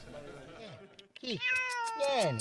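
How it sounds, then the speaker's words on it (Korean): A dust-covered cat surviving under a collapsed building after the earthquake in Amatrice, Italy, gives several rising and falling meows close by, with a brief pause midway and voices talking in the background. "무너져 내린 건물 아래서 먼지를 뒤집어 쓴 고양이가 모습을 드러냅니다"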